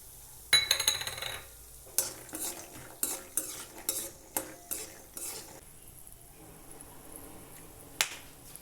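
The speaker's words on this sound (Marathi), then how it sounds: "आणि ह्याच कढईमध्ये आता आपण बदाम भाजून तळून घेऊ" Almonds are roasted and fried in a kadhai, with a sharp clatter, then a run of evenly spaced scraping clicks as they are stirred, all close up and without talk.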